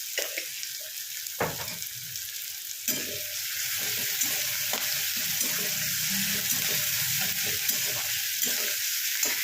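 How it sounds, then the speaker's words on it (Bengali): Sliced onions with a pinch of salt sizzling in hot oil in a pan, a constant bright hiss broken by scraping stirs and light clacks, no voices. "পেঁয়াজটা ভেজে নিয়ে ফেরত আসছি।"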